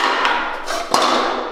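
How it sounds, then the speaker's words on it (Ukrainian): Small hammer strikes flat sheet metal laid over a pipe above a pit, with sharp metallic hits over a constant bright hiss, the clearest blow coming near the end. "Ось таким молоточком ви берете, б'єте сюди,"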